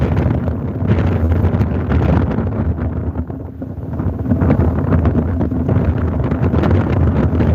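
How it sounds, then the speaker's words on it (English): Rough sea noise at Hollym Beach in cold weather, a continuous rushing wash of water mixed with wind rumble against the microphone, loud and steady without voices. "what you can hear is the sea"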